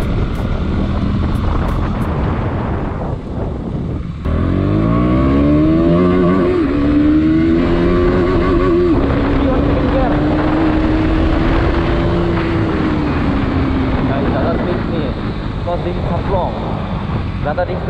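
A 2022 KTM Duke 200 motorcycle accelerates up through the gears, its single-cylinder engine and exhaust loud and close, the rising whine climbing in pitch with each gear before leveling off into a steady high drone.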